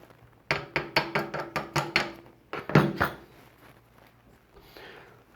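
Metal tool tapping the ring of a bike freewheel held with a wrench. A quick run of about eight sharp, evenly spaced taps is followed by a few heavier knocks, all close and clear, then quiet.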